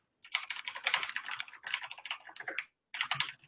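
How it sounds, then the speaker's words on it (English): Rapid, heavy keystrokes clatter on a computer keyboard in close, busy bursts with a brief pause before resuming. "It sounds like someone is very aggressively typing."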